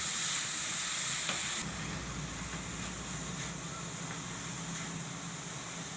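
Bottle gourd frying in ghee in a pan, a steady crackling sizzle with soft stirring scrapes, close and continuous, briefly louder at the start before settling.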